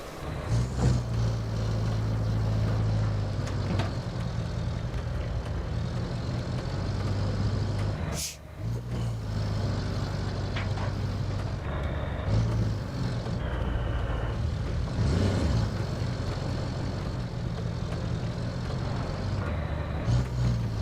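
Jeep crawling over a very rough, broken road in the game Roadcraft, its engine droning steadily and loud throughout, with brief dips and suspension knocks as it lurches along.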